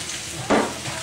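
Hot chicken stir-fries in a pan with a steady sizzle and a brief louder stirring scrape in the middle.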